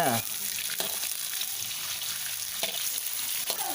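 Sun-dried beef frying in a pan gives off a steady, dense sizzle that continues throughout, with occasional stirring clatter and scrapes on top.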